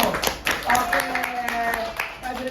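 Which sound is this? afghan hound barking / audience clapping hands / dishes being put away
audience clapping hands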